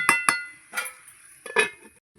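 Metal lid set back onto a cooking pot on the stove: two sharp clinks close together, then a few softer scraping clatters as it settles, close and clear with no talk.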